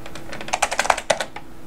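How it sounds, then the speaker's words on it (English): A password is typed on a computer keyboard during a Mac OS X Mountain Lion install, a quick close burst of about a dozen crisp key clicks in an uneven rhythm, with no talking. "When it asks you, type in your password."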